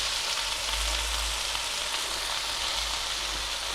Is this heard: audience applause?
no